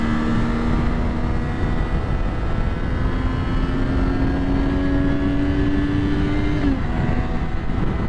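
A 2012 Triumph Daytona 675 motorcycle is ridden at speed with a loud, steady engine drone under heavy wind rush, and a quick gear shift near the end briefly drops the engine pitch.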